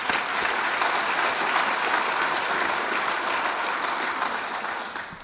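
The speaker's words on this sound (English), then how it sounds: "Let's give him one more round of applause." Sustained applause from a gala audience at a chamber of commerce awards dinner, dense and steady clapping filling the room for about five seconds, tapering slightly at the end.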